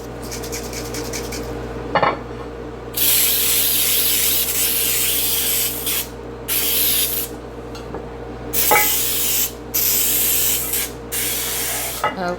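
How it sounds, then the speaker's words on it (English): Baker's Joy cooking spray hisses onto a baking pan for a poke cake in several bursts of varying length, loud and close, with light clinks of the pan and can between sprays. "Now I'm going to go ahead and spray my pan with my Baker's Joy."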